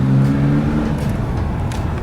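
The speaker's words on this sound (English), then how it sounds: "I put the performance exhaust on this thing and it sounds amazing." A BMW E82 with a performance exhaust revs with a deep, throaty exhaust note, loud and near, the pitch rising briefly before settling into a steady drone.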